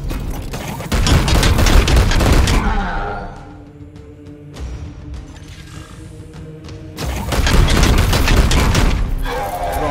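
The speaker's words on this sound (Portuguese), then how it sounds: "Vou dar dois tiros nele de uma vez" Heavy bursts of rapid gunfire and booming blasts from the video game Warhammer 40,000: Chaos Gate - Daemonhunters, loud at the start and end with a quieter stretch of mechanical noise between.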